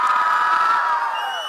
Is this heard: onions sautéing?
no